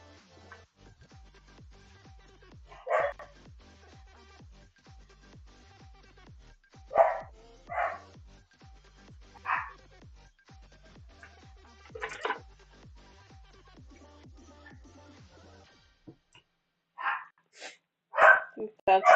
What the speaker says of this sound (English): The dogs are going berserk.